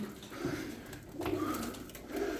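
Tumbler pigeons cooing in a loft, soft repeated low coos in a few short bursts over faint background rustle, quiet and close.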